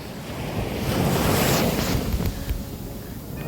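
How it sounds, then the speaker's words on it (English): Ocean surf at a beach in Gili, with waves rolling and washing in close by, swelling to a broad roar midway and then easing, with steady wind rushing across the microphone. "I'm in the ocean taking a little dip."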